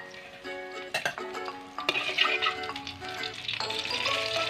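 Chili and garlic stir-fried in oil in a pan for bacon with chive flowers give a close, lively sizzle broken by sharp spatula clacks and scrapes, with the frying hiss swelling toward the end and no talk.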